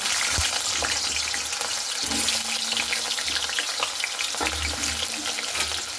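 Potatoes frying in mustard oil in a wok give a steady, close, bright hiss with no talk, broken by a few soft knocks.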